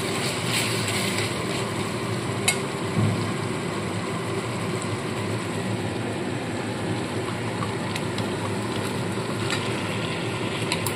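Fried chicken pieces go into a pan of softened tomato masala and set up a steady, even sizzle that hisses close and continuously, with a few faint clinks of stirring.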